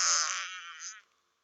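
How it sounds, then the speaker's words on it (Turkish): A fart sound effect from a comedy video game, one buzzy, raspy blast about a second long that starts loud and tapers off into silence. "Bir dakika osuruk 2'yi deneyelim."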